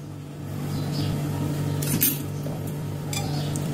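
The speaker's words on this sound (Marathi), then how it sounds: "सोडा घातला की पटकन मिक्स करून घेऊया।" A spoon quickly stirs khaman dhokla batter in a bowl right after baking soda goes in, giving light clinks and scrapes against the vessel over a steady low background hum.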